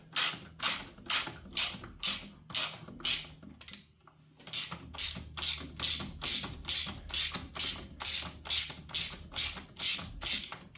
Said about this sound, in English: Little ratchet